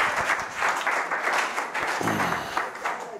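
Listeners at an investor pitch event applaud a startup team, a loud, close, continuous burst of clapping that stays strong for the whole stretch.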